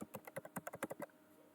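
Rapid, quiet clicks of typing on a computer keyboard, about a dozen keystrokes in an uneven run over a second, close but soft, with no voices.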